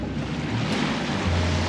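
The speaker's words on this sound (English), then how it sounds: "from the waves hitting the outer reef." Ocean waves break on an outer reef a mile offshore near Huahine in the Leeward Society Islands, heard as a broad, continuous roar of surf with wind rushing across the microphone.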